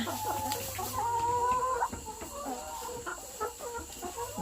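Hens cluck and purr softly close by in a coop at night, a few overlapping drawn-out calls over a low background hum.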